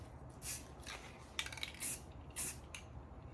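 Several short hissing bursts of spray paint in spray-can art, roughly evenly spaced, close and fairly quiet, separated by faint rattling and handling noise.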